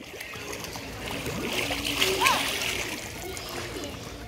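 A young child splashes and paddles in water, producing continuous close watery splashing and sloshing, with voices and child chatter mixed in.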